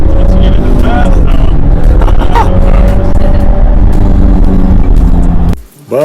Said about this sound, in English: it's just really awesome to rev this thing up and take it down a bumpy, potholed Los Angeles street